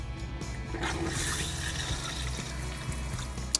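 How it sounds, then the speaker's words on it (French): Water running from the kitchen tap of a campervan, a steady splashing flow into the sink with a small clunk at the end. "Pour allumer le robinet, il suffit de tourner ce bouton."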